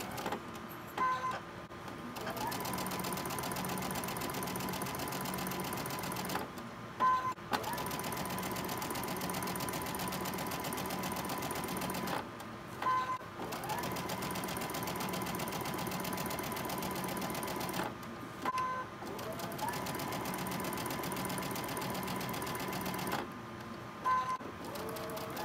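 A domestic sewing machine stitches a seam on a pinwheel Christmas table runner in several long runs, its steady motor hum and rapid needle clatter broken by short pauses between passes, close and alone.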